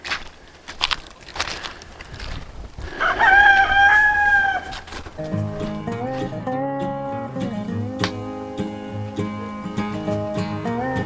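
Backyard chickens in a poultry-netting paddock cluck and squawk, starting with scattered clucks, then a rooster crows once. After that, steady hen chatter and calls continue at moderate closeness.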